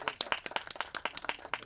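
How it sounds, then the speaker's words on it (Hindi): An audience at the Mission Kashi trailer launch applauds, producing a quick patter of separate sharp hand claps, fairly faint and somewhat distant, in a loose, uneven rhythm. "जोरदार तालियां चाहिए।"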